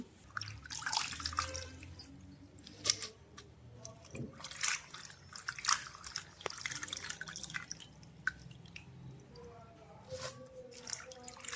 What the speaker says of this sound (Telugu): గోంగూర కూడా కడిగేసి శుభ్రంగా గిన్నెలో పెట్టుకుందామండి